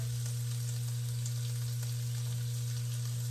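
Seasoned meat browning in a pan, rubbed with garlic powder, onion powder, seasoning salt and black pepper, gives a steady, close sizzle of frying that runs evenly throughout, with a constant low hum beneath and no voices.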